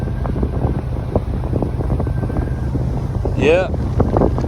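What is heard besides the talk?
ferry departing Port Townsend with wind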